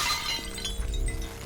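Glass shatters in a movie scene from Sin City (2005), a short crash of breaking and tinkling shards that settles into a low rumble.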